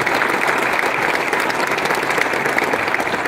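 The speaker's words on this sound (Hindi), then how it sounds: "मैं चाहता हूँ मेरी सभी अपलाइन और मेरी टीम के लिए जोरदार ताली होनी चाहिए।" Loud, sustained applause from an audience at a success-story achiever event, dense clapping filling the whole stretch at steady volume with no talk over it.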